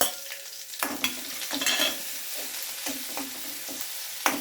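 Three crushed green chilies hit hot oil in a pan for tuna masala, bringing a bright crackling sizzle with repeated utensil scrapes and taps, close and lively, with no talk.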